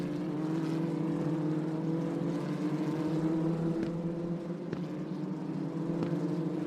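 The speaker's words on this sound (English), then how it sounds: "The number 8 car of Rafa Villa-Gomez in 10th position, holding off Alex Connor" Formula 3 cars at an FIA Asian Championship race drone steadily at a distance, a continuous engine hum with faint passing surges and no talk over it.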